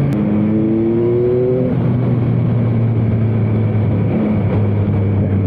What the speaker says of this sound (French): Pour avoir une moto qui démarre comme ça au quart de tour